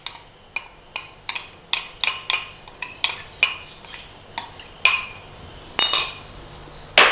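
A utensil stirs cornstarch slurry into a pan of sweet noodle sauce, a close series of sharp metallic clinks and scrapes against the vessel, coming in a steady rhythm of about fifteen strokes with no talking.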